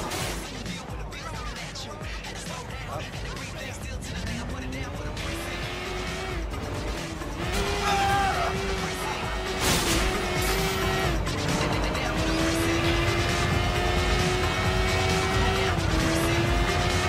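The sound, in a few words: car driving in video game Sleeping Dogs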